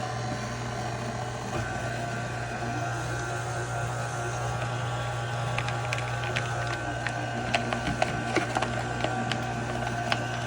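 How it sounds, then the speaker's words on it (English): A KitchenAid stand mixer's grater attachment hums and whirs steadily while grating cold cheese, with a continuous mechanical drone and a sprinkling of small rattling clicks in the later seconds. "I need to grate some cheese, so I'm using the grater for my Kitchenaid"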